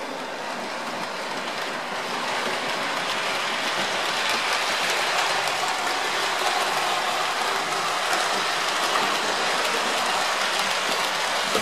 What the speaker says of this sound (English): One you want to see, Flying Scotsman.